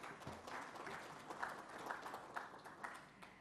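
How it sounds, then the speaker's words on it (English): Audience applause for a panel speaker at an auto industry forum on hybrids and electric vehicles, a steady patter of many hands clapping at moderate, fairly distant level for a few seconds. "A round of applause for Mr."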